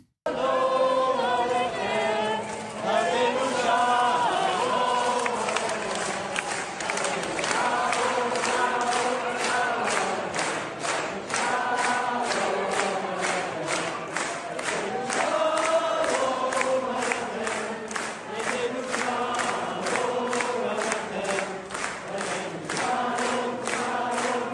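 Large crowd at a church event in Heerenveen, Holland, reacting to anti-Israel protesters with loud, rhythmic group singing or chanting in unison, sustained and full throughout.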